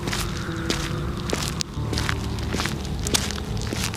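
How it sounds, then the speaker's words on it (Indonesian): Human footsteps crunching on dry twigs at night, a steady run of snaps and crackles against a dense, noisy background, fairly close. "bukan langkah hewan, tapi langkah kaki manusia yang menginjak ranting kering"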